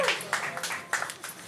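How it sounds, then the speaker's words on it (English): An audience at a live show applauds a folk singer, a brief burst of loud, fairly close clapping that swells and pulses in quick waves. "everybody, give him a round of applause"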